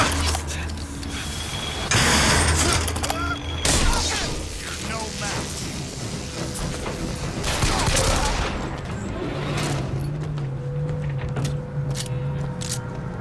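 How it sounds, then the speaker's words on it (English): Pistol fire in Bioshock Infinite, heard as several sharp shots among busy game noise, mechanical clatter and bursts, with a low hum near the end; no one speaks. "headshots I find are quite easy with the pistol"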